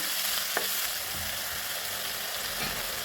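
Chopped tomatoes sautéing in a pan for bottle gourd curry, a steady close sizzling hiss with a single brief clink of a spoon, no voices.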